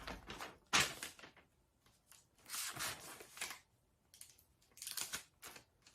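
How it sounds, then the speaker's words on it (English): Faint sliding and clattering of the pull-out drawer on a Cascadia Pro sublimation heat press, a series of soft scrapes, clicks and rustles close by in a quiet room. "And then I've got my pull-out drawer."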